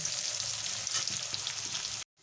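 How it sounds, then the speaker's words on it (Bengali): Chopped onions sizzle and crackle steadily in hot oil as they fry toward golden brown for a fish roe curry, a close, dense frying hiss that stops abruptly. "ভালো করে ভেজে নেব গোল্ডেন ব্রাউন যতক্ষণ না হয় ততক্ষণ আমি এটাকে ভাজতে থাকব"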